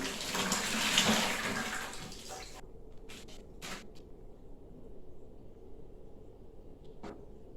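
Water pours into a new aquarium being set up for Neolamprologus multifasciatus shell dweller cichlids, a steady splashing rush for about two and a half seconds, then quieter room tone with a few small splashes and drips.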